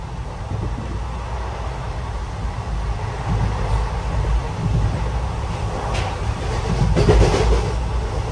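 A train rolls into a station platform where a few people wait, a low steady rumble building gradually with faint rail clatter and a brief squeal near the end, moderately close and alone.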